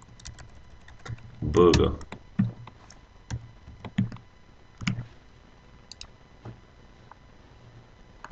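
Computer keyboard being typed on in scattered short bursts of sharp clicks, with a brief spoken word breaking in partway through.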